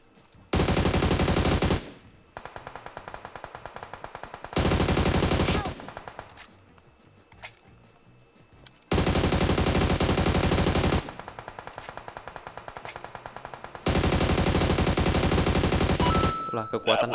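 Bursts of automatic gunfire from a firefight in the battle royale game PUBG, several loud sustained volleys separated by quieter stretches of lighter fire and game ambience.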